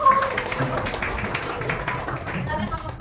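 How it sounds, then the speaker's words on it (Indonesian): Classroom applause from a group of students, scattered hand claps running steadily throughout with murmuring voices mixed underneath. "tepuk tangan"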